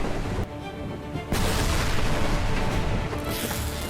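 Heavy booming blasts of ship's cannon fire, a deep roar that swells after a brief dip and then stays loud and continuous.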